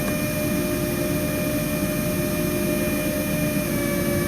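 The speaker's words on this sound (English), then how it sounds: "I can hear a plane going over my house" An airplane passes over a house as a steady, broad engine roar, constant and moderately loud throughout, mixed with a dense hum of other machinery and no talking.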